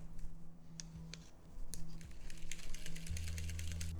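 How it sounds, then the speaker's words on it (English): A small whisk beats a yogurt dressing for a cucumber salad, giving a fast, close patter of light metallic clicks against the bowl that grows busier and steadier partway through, over a low background hum. "This little whisk for sauces and dressings, this is the best whisk to use."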